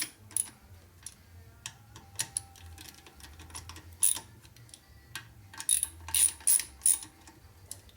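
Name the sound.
ratcheting wrench tightening bolts on motorcycle engine case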